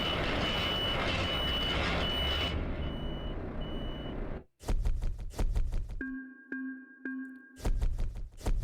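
Reversing alarm of a truck in Euro Truck Simulator 2 sounds in a run of steady, evenly spaced beeps, following a loud stretch of engine and road rumble that cuts off abruptly.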